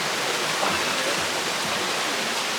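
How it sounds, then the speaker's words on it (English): Water pours down one of the Blue Hole waterfalls in Jamaica, a loud, steady, rushing roar close by with no voices. "There is multiple waterfalls."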